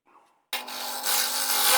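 Wood being hollowed on a lathe: a short faint scrape, a pause, then a sudden loud continuous rasping cut with a low steady hum beneath, growing slightly stronger.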